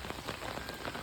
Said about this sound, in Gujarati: હજુ ઓછું છે વરસાદ એટલો બધો નહીં